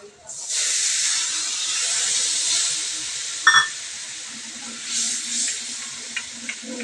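Water poured into a pan of frying spices with a fried coconut, garlic and ginger paste for a spinach dish sets off a loud, steady hiss of sizzling steam that runs on, with a brief sharp crackle midway.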